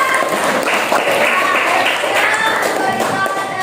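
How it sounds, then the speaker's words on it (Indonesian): Classroom applause as students clap for a classmate ranked first during a science lesson results announcement, a dense even patter of many hands lasting throughout. "Ayo berikan tepuk tangan dulu Wildan."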